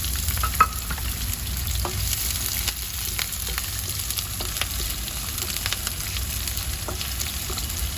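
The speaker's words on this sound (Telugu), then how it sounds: "ఆయిల్లోకి కొద్దిగా కొత్తిమీర, కరివేపాకు, కొద్దిగా ఆనియన్," Coriander, curry leaves and onion fry in hot oil with a steady, close crackling sizzle and occasional stirring clicks, continuous throughout with no talking.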